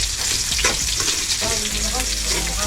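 Garlic frying in a hot pan, a steady broadband sizzle with occasional stirring scrapes throughout, close and loud, with no talking.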